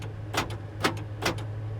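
The power door locks of a 1987 Chevrolet C10 pickup truck fire as three quick, sharp mechanical clunks about half a second apart over a low steady engine hum.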